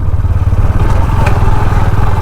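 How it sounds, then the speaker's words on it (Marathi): A motorcycle engine roars loud and close while riding off-road, with a steady rumbling drone and some rattling clatter throughout. "ऑफ रोडला बाईक चालवूक मजा येता फक्त बाईक तशी हवी"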